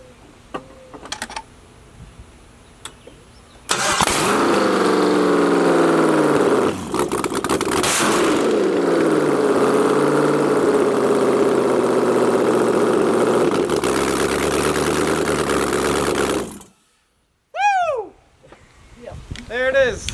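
A Jaguar XJ-S swapped with an LS V8 fires up for the first time after faint clicks. It gives a sudden, very loud, rough roar and revs, idles for about twelve seconds, then cuts off, followed by brief voices.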